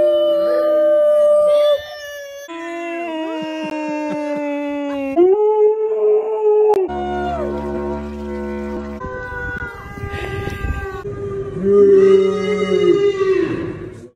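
Townspeople imitate cows during a pandemic lockdown, their long wavering moos overlapping in drawn-out calls that rise and fall across several voices, sounding somewhat like howling.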